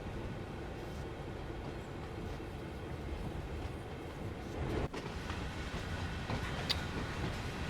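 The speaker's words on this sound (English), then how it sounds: "Actually, a pretty decent size train we got here." Freight train with Canadian National livery rolling steadily in Train Sim World 3 on the Oakville Subdivision during a blizzard, a continuous low rumble with faint wheel clatter and a brief dip near the end.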